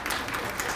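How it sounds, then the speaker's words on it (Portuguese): A brief burst of audience applause rises at a journalism panel event, a dense, steady patter of clapping at moderate loudness lasting under a second. "Aplausos, né, gente?"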